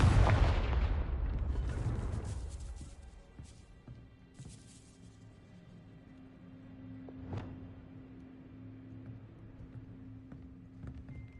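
A Confringo fire spell blasts in Hogwarts Legacy on PS5, with a loud explosive burst at the start that fades into a low, rumbling ambience with a faint later thump.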